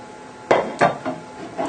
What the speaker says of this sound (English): Just pop them onto a baking tray.